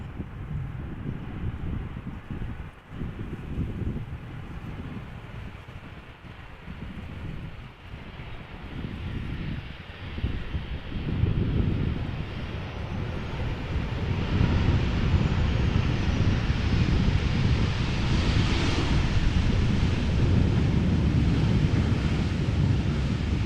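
A Transavia Boeing 737-800 arrives at Amsterdam Schiphol, a distant jet rumble with wind buffeting the microphone, growing steadily louder through the second half.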